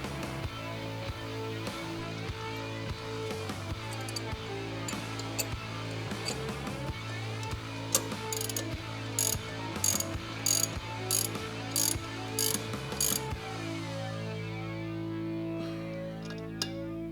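A nut is spun onto a Lamborghini Murciélago billet front differential delete assembly with a ratcheting tool, producing sustained clicking with sharp repeated bursts in the middle, over a steady mechanical drone.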